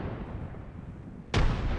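A frag grenade in Apex Legends goes off as a single close, sharp blast that cuts through low ambient rumble near the end.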